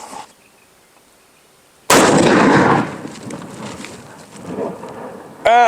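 After quiet wind, a single loud, sharp .50 BMG rifle blast strikes a fiber reinforced concrete target outdoors, its boom rolling off into a rumbling decay, with a bright metallic ring right at the end.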